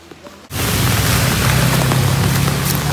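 Rain starts abruptly at an outdoor barbecue during flooding, then pours as a dense, loud, continuous wash of noise.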